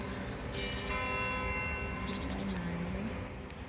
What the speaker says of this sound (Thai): แล้วก็จะได้เสียง เสียงระฆังนะคะ ระฆังนี้มาจากที่โบสถ์นะคะ